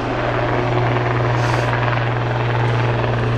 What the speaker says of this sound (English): They're really showing you just what a manoeuvrable aeroplane this is.